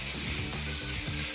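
Spray paint hisses steadily onto craft blocks for a DIY pet maze, a continuous close, bright spray lasting the whole moment with no talking.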